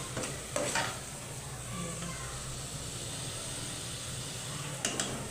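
Masala for dal frying and being stirred in a pan, a steady close sizzle with a few sharp scraping strokes of the spoon near the start and end.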